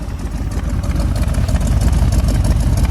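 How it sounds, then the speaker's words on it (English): A 1970 AMC Javelin SST with factory side pipes and custom side pipe mufflers idles up close, its exhaust giving a deep, throbbing, steady rumble with no talking. "Let me, I'm going to listen to the exhaust."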